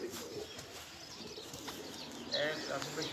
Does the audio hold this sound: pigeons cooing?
yes